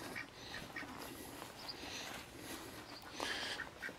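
Ducks quack faintly in the distance on a summer farm walk, a few scattered calls over soft outdoor background noise with no voices.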